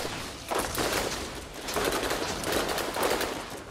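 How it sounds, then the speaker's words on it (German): A poison submachine gun fires in Borderlands at Krom's Canyon: dense, noisy automatic bursts in several loud waves that swell and fade over a constant hiss, with no talking. "Eine Gift-MG."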